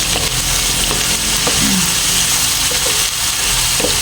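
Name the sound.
stirring and sautéing food with seasonings in a pan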